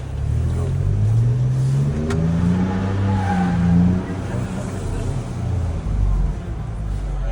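A 2024 Ford Ranger Raptor with a 3-liter twin-turbo engine and 10-speed automatic driving an off-road course, a steady engine drone rising and falling in pitch as it shifts, heard from inside the cabin with someone talking over it.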